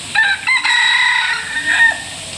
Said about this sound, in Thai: นี่เป็นไก่นะครับ ไก่ฟ้านะครับ